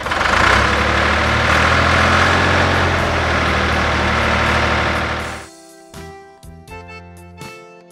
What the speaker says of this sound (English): Tractor with loader.